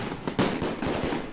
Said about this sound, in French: Les pétards sont le premier cadeau que les Chinois ont offert au monde.